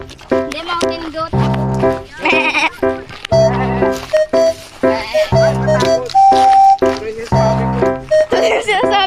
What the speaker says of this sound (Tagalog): Hindi, mountain goat.